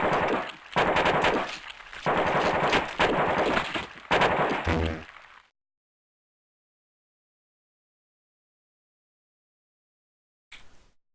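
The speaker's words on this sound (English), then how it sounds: "I'm just going to switch over to use my assault rifle at this point" Assault rifle fire in a video game, several loud rapid automatic bursts separated by brief gaps, then long silence before a short final burst near the end.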